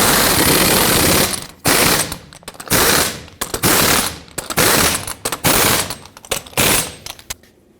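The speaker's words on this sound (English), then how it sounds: "put back all 6 of your lug nuts, and torque them all down in a cross pattern to 150 foot-pounds" A torque tool tightens the six lug nuts on a 2004-2008 Ford F-150 front wheel in loud, close bursts of rapid hammering, each burst separated by short pauses as it moves from nut to nut.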